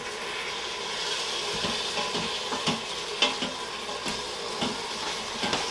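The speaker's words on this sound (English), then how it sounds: "And now I'm just going to mix it all together with the meat." Ground meat is mixed with garlic and Italian seasoning, a steady wet squelching and sizzling texture dotted with soft irregular clicks and thumps, close and fairly quiet with no voices.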